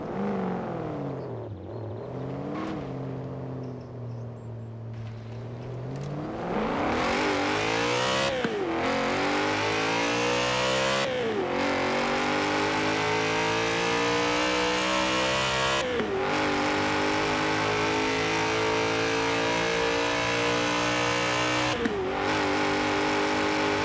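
Car engine in Forza Horizon 4 revving repeatedly, rising and falling in pitch with several sharp gear-change blips, loud and continuous with no talk.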